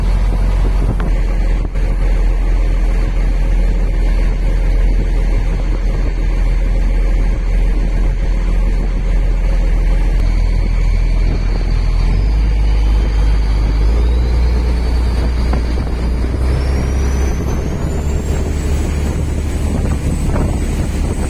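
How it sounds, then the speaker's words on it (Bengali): A speedboat crossing to Kusu Island in Singapore gives a loud, unbroken low engine drone, heavily buffeted by wind, heard from inside the boat for the whole ride. "এই মুহূর্তে আমরা আছি স্পিড বোটের ভিতরে।"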